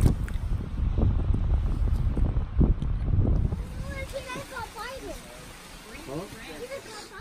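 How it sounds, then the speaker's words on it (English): Cold wind buffets a microphone on a hiking trail, heavy low rumbling gusts for the first half, then easing while a person talks over it. "today is back to windy and cold."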